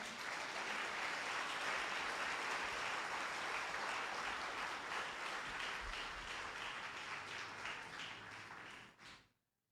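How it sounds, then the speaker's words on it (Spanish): A church congregation applauding during a sermon, a sustained roar of many clapping hands at even loudness for several seconds before cutting off abruptly into silence. "Denle un aplauso al Señor."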